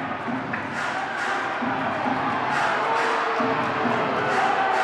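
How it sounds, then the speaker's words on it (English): Basketball arena crowd voicing a steady, dense roar of disapproval at a referee's call, continuous and fairly loud throughout with no distinct individual voices. "Officials are gonna hear it from the crowd on this one."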